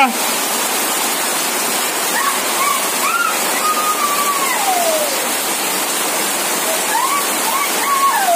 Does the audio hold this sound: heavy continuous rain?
yes